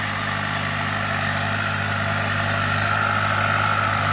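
A Kubota M6240 tractor engine runs steadily while ploughing a wet rice field, a close, continuous low diesel hum with a constant mechanical drone and no talk.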